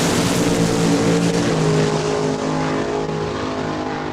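Drag racing cars, one a Camaro, roar loudly off the line at a Saskatchewan raceway, a dense sustained engine blare with strong harmonic tones that eases slightly toward the end.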